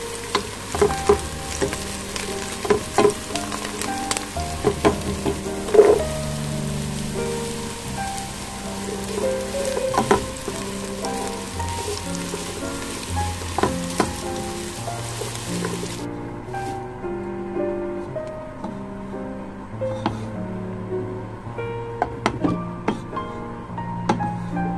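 Rice sizzles and crackles in a hot pan with intermittent scraping and stirring clatter, while music plays softly underneath.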